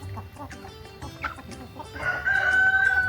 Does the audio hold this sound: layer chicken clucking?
yes